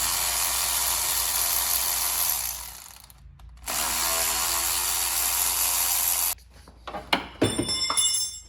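Rapid ratchet clicking on the lower intake bolts of a GM 3800 V6 engine, two long steady runs of close, loud ratcheting, then a pause and a few short sharp bursts as the bolts break loose.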